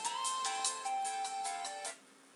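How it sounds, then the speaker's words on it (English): A phone ringtone goes off in a short run of bright melodic notes, fairly faint and alone, ending abruptly after about two seconds. "That was just my phone going off."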